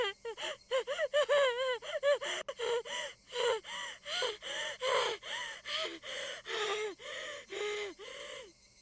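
Rough, ragged gasping breaths from a female character in the visual novel game Higurashi: When They Cry, a steady run of about twenty voiced inhales and exhales, close and fairly loud, with no talking.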